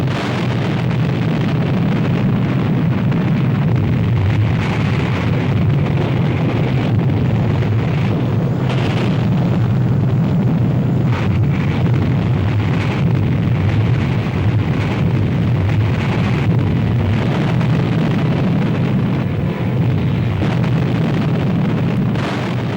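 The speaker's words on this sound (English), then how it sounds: "the Russians successfully carried out an atomic bomb test" Atomic bomb test explosion from a 1949 Cold War era test, a loud sustained roaring rumble with heavy low-end wind-like blast noise running continuously and unbroken, without any voices.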